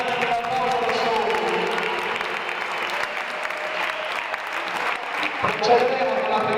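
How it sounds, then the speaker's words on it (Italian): Steady applause from a crowd of parents at a local basketball club's awards ceremony fills the hall, dense clapping holding at an even level throughout. "Vi ringraziamo anche per l'applauso da soli."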